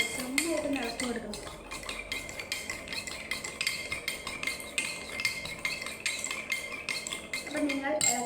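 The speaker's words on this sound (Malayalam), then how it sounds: "നന്നായിട്ട് ഇളക്കി കൊടുക്കണം." A spoon stirs a soda lemon drink in a glass, clinking and scraping steadily and close throughout, with a busy household noise bed behind it.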